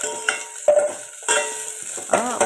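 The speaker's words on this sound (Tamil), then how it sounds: "எண்ணெய் ஊற்றி கொஞ்சம் அந்த வெங்காயம், பச்சை மிளகா, அதுக்கப்புறவு கருவேப்பிலை 3ஐயும் போட்டு நல்ல ஒரு கிண்டுனேன்" Onion, green chili and curry leaves fry in oil while a spoon stirs them in bursts, with short scraping strokes and bright crackling sizzle in a close, clear kitchen and no one speaking.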